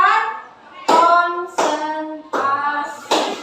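A class of children claps together in short rhythmic bursts, four sharp groups of hand claps separated by brief pauses, close and loud with no talk over them.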